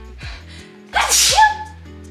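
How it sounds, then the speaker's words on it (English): A single loud sneeze bursts out suddenly in a quiet room, with a sharp breathy explosion and a brief vocal tail. "I'm gonna sneeze."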